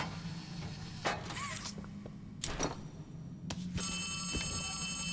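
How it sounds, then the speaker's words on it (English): A telephone rings in the Poppy Playtime video game, a bright electronic ring that starts in bursts and then sounds steadily over a low background hum. "Oh, I thought it was an alarm. It's just the phone."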